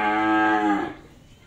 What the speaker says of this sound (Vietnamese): Con bò này 7 tháng rồi nè.